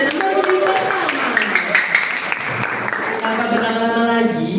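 Audience clapping at a school poetry-reading contest, a dense, steady wash of applause lasting several seconds with voices and cheering mixed in.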